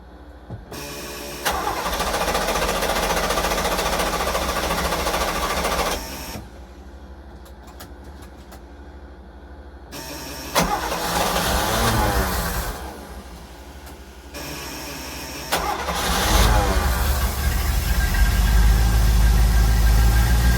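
A GM Marine engine in a Silverton 34C boat cranks and cold-starts, loud and close. Churning cranking bursts give way to a rough, rumbling run that surges and settles over about twenty seconds.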